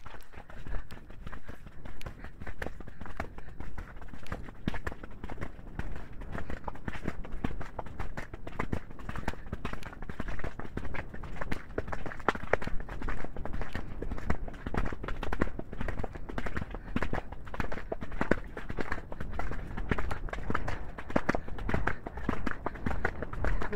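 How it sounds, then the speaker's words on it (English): Horse cantering along a muddy track on a cold, bright winter day, with steady repeated hoofbeats and rustling close by throughout, no talk. "So we'll have a little canter along here."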